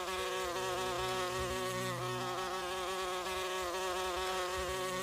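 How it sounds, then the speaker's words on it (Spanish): Flies buzz in a steady, continuous drone that stays close and even for several seconds, with no voices. "Según las confesiones de Gacy, esto causaba malos olores y atraía moscas a mi domicilio."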